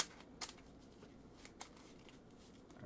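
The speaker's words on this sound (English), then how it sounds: "once you get done shuffling" A trading card game deck is shuffled quietly by hand, with a couple of short riffling bursts against a soft background.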